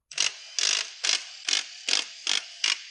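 A ratchet wrench works on 13mm pump bolts of a 700R4 transmission from a 1990 Suburban, seven evenly spaced clicking bursts, close and clear with no talking.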